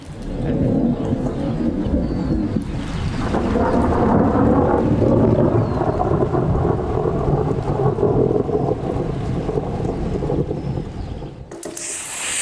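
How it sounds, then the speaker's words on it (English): Steady rain pours with a deep rumbling of thunder swelling through the middle, loud and continuous, no one speaking. "And it started to rain outside."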